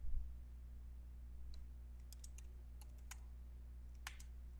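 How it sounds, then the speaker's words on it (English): Keys on a computer keyboard are tapped in a quiet indoor setting as a username is entered, giving a sparse, irregular run of light clicks over a low steady hum. "And type in the username"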